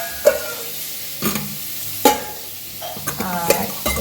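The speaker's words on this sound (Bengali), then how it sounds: "এখানে মাছ ভাজা হচ্ছে" Fish fries in a pan with a steady low sizzle, broken by a few sharp scraping stirs and knocks of a utensil, close by with no talk.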